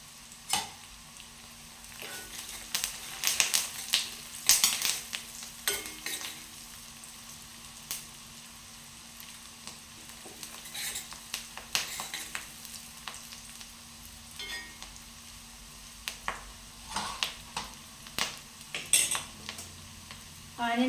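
Onions and curry leaves fry in a pan for a capsicum tomato curry, a low steady sizzle broken by intermittent scrapes and clinks of a spoon stirring against the metal, close by with no talking.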